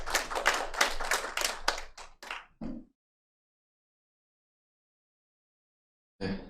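A small group claps after an online business presentation, a brisk patter of hands lasting under three seconds that thins out into silence, with a brief sound returning near the end.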